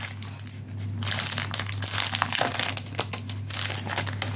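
Plastic packaging around die-cut notepads crinkles and crumples as it is torn open by hand, close and busy with uneven bursts, no speech.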